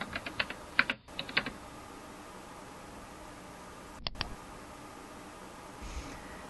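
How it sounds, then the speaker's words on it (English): Short bursts of clicky keystrokes on a computer keyboard, a quick run of typing followed by a pause and a couple of sharper taps like the Enter key, close and fairly quiet over faint room hiss. "I'll type in helmets and click Enter"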